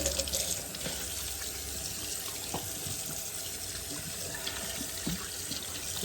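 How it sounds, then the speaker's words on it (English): Steady cold tap water splashing into a sink while rinsing a raw chicken, a continuous rushing hiss with occasional small splashes and knocks, close by. "we're going to rinse our chicken"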